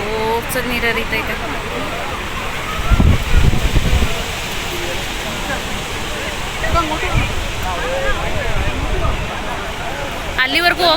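Water rushing along a stream on a one-day outing, a steady broadband roar with a few louder surges, and voices talking over the flow now and then.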